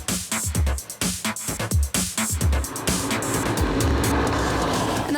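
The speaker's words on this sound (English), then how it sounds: "The E39 BMW M5 of Tom Barrett wasn't happy in the wet" BMW E39 M5 climbing a wet hillclimb course: the engine revs in rapid surges through gear changes, then settles into a steady loud roar, heard close with no talk.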